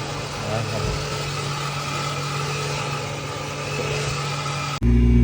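A Honda Civic engine with an aftermarket exhaust runs at a steady idle, a constant low drone held at an even level for several seconds before a sudden, louder shift near the end, with faint voices in the background.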